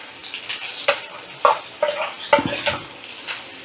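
Okra sizzles in a pan as mustard and poppy seed paste is added, followed by a few sharp clinks and scrapes of a spoon against the pan over a steady close hiss.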